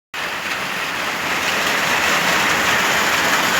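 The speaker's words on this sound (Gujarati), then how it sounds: "ફૂલ વરસાદ ભાઈ ચાલુ થઈ ગયો આમ જોવો તમે હા, આમ રોડ માથે જોવો" Heavy rain pours down on a village road, a dense, loud, continuous roar of water that starts abruptly and keeps building slightly in intensity, with no voices over it.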